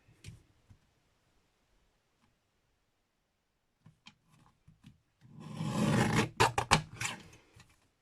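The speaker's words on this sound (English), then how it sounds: "I'm just going to shave off the teensiest, tiniest bit of cardstock" After a long near-silent stretch with a few faint taps, a short, close rasping scrape runs for about two seconds as a thin sliver is shaved off the edge of a stamped cardstock card.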